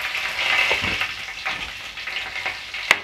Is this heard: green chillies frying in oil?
yes